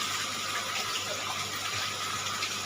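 Water pours steadily into an aquarium container, a continuous hissing gush that fills the whole stretch without pause.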